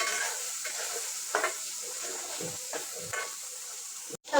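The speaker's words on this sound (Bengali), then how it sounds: "হচ্ছে ওই তেলের মধ্যেই আমি আলুগুলো ভেজে নিব" Potatoes fry in a wok of oil left over from frying small fish, giving a steady close sizzle with a few soft stirring scrapes and a sharp clatter near the end; no talking.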